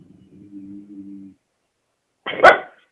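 A dog barks for attention at close range: one sharp, loud bark that follows a lower, drawn-out whining tone, with silence in between.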